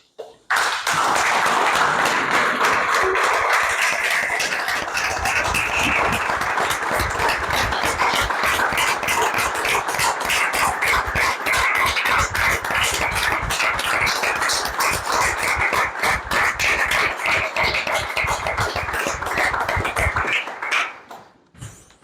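Sustained applause from an audience standing in tribute at a commemorative event for resistance fighters, a dense steady wash of clapping for about twenty seconds before fading out.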